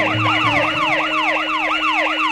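An ambulance siren wails loud and close in a fast, steady up-and-down sweep, with a faint hum of traffic underneath.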